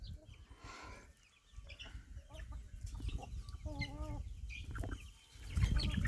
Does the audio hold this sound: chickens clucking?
yes